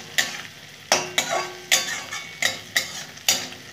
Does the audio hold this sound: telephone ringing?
no